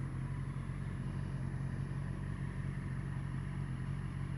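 A Daytona motorcycle's engine hums steadily with a low, continuous drone and light mechanical clatter, heard from nearby while riding on the road, with no voices.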